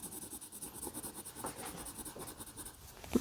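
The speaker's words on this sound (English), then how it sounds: "And a third layer as I turn my pencil." Colored pencil layering strokes on paper while drawing tulips, a steady soft scratchy scribble in quick repeated strokes, close and quiet, with no talking.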